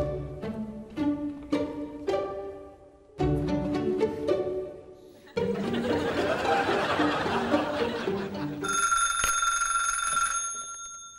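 An office telephone rings in short repeated bursts, then electronic tones sound, mixed with laughter and music in a Vietnamese comedy sketch set at a maid-service company.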